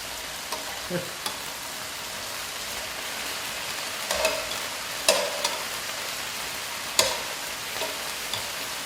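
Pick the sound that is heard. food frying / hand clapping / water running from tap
food frying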